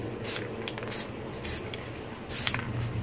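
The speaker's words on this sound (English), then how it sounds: "you're going to be careful to spray on this" White spray paint hisses from an aerosol can onto a spray paint art piece in short bursts, four quick sprays spaced a second or so apart, close and fairly loud with no talk.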